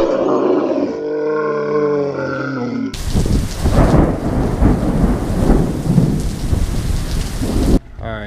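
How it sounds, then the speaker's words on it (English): After a brief tonal sound, heavy rain roars in with rumbling thunder, loud and close, then cuts off abruptly near the end. "So it's raining right now."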